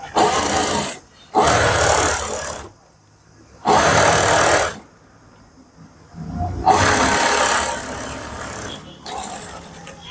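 A sewing machine stitching a puff sleeve runs in several loud, close bursts of rapid whirring, separated by short pauses, with a faint voice in the gaps.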